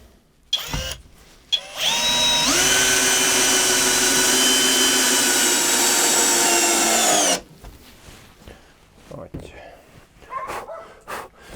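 A power drill bores a pilot hole in wood for an archery target stand, running as a loud, steady whine for about five seconds after a couple of short bursts, then cutting off.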